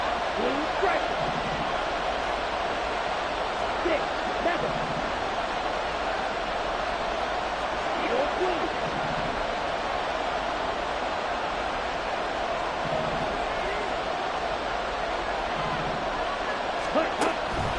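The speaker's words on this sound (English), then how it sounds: "This crowd turning up the decibel level." Steady, dense roar of a stadium crowd at a football game on a third-and-long play, a continuous wash of noise holding the whole stretch with a few louder swells and no talk over it.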